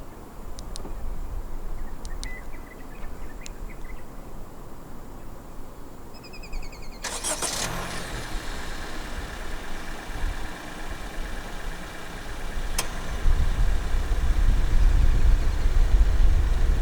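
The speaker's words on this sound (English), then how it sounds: "Standard for the 8th generation City in Malaysia is a remote engine start system." A steady low engine idle from a 2023 Honda City 1.5 V hums on its own after a brief electronic chirp and click of remote start, with a louder rumble building near the end.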